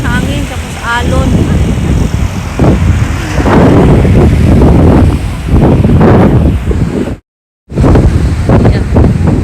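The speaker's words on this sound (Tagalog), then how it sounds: "Lakas ng hangin tapos alon." Strong wind roars across a beach with crashing waves, a loud, steady broadband wash that fills the clip and briefly cuts out near the end, with voices partly audible beneath it.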